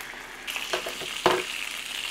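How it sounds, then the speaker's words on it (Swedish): A piece of beef sirloin lands in hot oil in a pan, and a loud close sizzle swells from a faint hiss, with a sharp sputter and clatter as the meat settles. "Jag tror nog att oljan börjar bli varm. Så dit med en köttbit."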